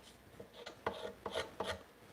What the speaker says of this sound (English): This is buckskin here, otherwise I wouldn't scrape it like this.